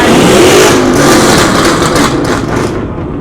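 A Honda Civic engine revs hard at a street race, a loud, sustained high-pitched roar close by that holds steady and then eases off slightly toward the end, with no voices.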